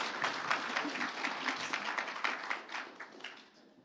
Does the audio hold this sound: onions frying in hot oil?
no